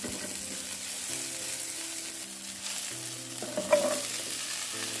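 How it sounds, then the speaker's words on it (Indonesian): Shallots, garlic and chilies sautéing in oil in a pan, giving a steady close sizzle and fry with scraping stirs and a brief clatter near the end, with no voices. "Bawang merah, bawang putihnya ditumis dulu sampai setengah matang dan wangi. Kalau sudah, tinggal dimasukkan cabenya."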